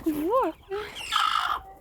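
Young chicks being let out of their coop for a walk, a few close clucks and chirping calls in quick succession, with brief bits of nearby human voice mixed in.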